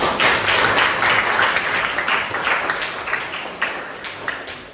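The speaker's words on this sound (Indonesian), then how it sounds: "Kira kasih tepuk tangan untuk Pak." Audience applause at an Islamic funeral-rites training session, a dense steady patter of many hands clapping that carries on for several seconds and slowly fades, with no talk over it.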